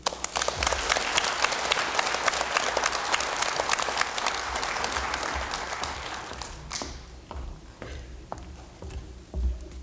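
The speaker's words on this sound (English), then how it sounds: "let's give these students another nice round of applause" An audience at an elementary school speech contest gives a loud, sustained round of applause that fades out after about seven seconds, leaving a few scattered claps and small noises.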